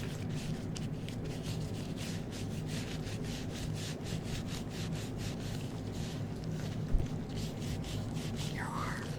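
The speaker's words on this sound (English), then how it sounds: "Just rub it on your hands. And on your arms." Skincare lotion is rubbed onto hands and arms in a soft spa-style setting, a steady close swishing and rubbing that continues without pause.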